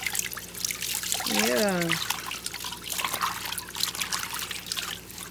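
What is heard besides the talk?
water rinsing a dog during bath time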